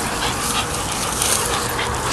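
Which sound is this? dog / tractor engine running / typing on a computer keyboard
dog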